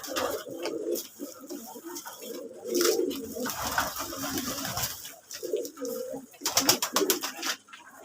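Domestic pigeons coo repeatedly at night while being fed, soft throaty calls close by, with short bursts of rustling and flutter between them.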